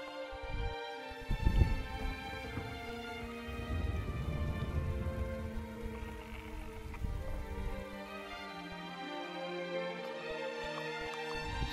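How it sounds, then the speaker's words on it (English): Steady rain falls in the Shadow of the Colossus video game, a soft continuous patter layered under sustained musical tones, moderately loud throughout. "Alright, so we was in the forest, now it's raining"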